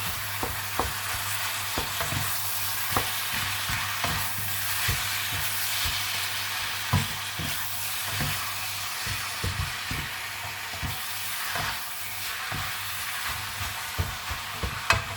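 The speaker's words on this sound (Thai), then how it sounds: "เดี๋ยวค่อยๆขัดไปอย่างนี้เรื่อย ๆหมูเขาจะได้ไม่เป็นก้อน" Minced pork stir-fried in a pan for Thai basil pork, a continuous sizzle punctuated by frequent sharp spatula scrapes and taps in an uneven rhythm, close and fairly loud, with no voices.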